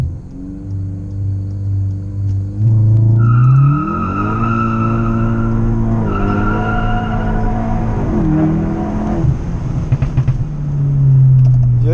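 A stage 2 tuned Audi A3 launches hard with stability control switched off, engine droning low before surging loudly through rising revs with gear-change dips, tire squeal and rumble close by, then settling to a steady idle.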